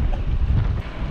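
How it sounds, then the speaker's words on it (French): Strong wind buffets the microphone while cycling outdoors on a sunny autumn or winter day, a steady low rumbling roar that dips briefly near the end, with no talking. "le vent est toujours là"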